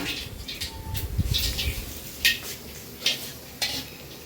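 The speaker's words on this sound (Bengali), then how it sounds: "শুকনো লঙ্কাটা সুন্দর পুড়ে গেছে, দেখেছো?" Dried red chilies frying in hot oil in a pan while making a dal, with soft sizzling, a few scraping stirs and sharp metallic clinks of utensil against the pot, close and moderately quiet.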